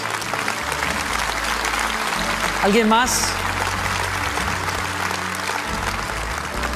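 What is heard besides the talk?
congregation applause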